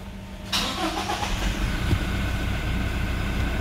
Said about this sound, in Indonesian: Ini kita coba start up ya. Ambil injak pedal kopling ya.